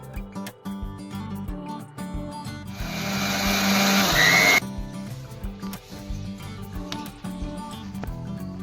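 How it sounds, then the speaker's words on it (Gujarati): An electric mixer grinder blending tomato pieces, starting with kitchen clatter and knocks before a loud steady whirring roar runs for about two seconds and cuts off, followed by more handling sounds. "હવે આપણે એને મિક્સરમાં પીલી નાખીએ."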